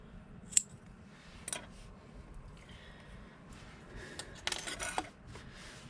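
Scissors cutting crochet yarn at a 3D rose handbag project, a few crisp, close metallic snips separated by quiet pauses over low background noise.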